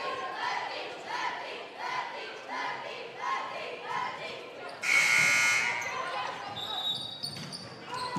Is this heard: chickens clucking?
no